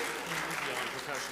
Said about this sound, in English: Everyone should applaud at that.